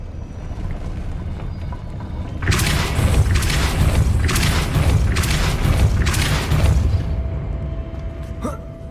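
Hogwarts Legacy's Depulso spell bursts out as a series of loud, broadband whooshing blasts, roughly four pulses in quick succession over a few seconds, followed by a faint lingering tone.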